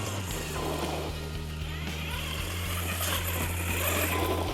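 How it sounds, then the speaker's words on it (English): ZD Racing Thunder RC stadium truck running at full throttle, a steady whining electric motor drone with shifting pitch, fairly close and continuous throughout. "Okay, we're full throttling it right now."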